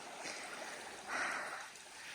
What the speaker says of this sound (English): Another water crossing.